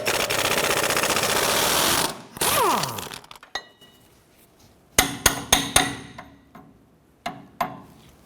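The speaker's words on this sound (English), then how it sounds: "Using an 18mm socket and extension on the front side and an 18mm wrench on the other. Let's go ahead and loosen that nut." An 18mm socket with extension and an 18mm wrench loosen a nut on the front sway bar link of a 1993-1997 Ford Ranger: a loud whirring burst, then sharp metallic clanks and ratchet clicks in quick groups, close up.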